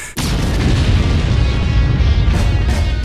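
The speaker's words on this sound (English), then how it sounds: "Explosions!" A sudden loud blast opens into a heavy, sustained rumbling roar of video game explosions in Borderlands 2 that barely lets up.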